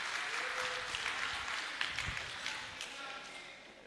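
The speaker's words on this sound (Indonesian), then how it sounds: "Ya, tepuk tangan." Applause from the audience at a seminar for young civil servants, a soft, steady wash of clapping heard from a distance, with faint voices underneath.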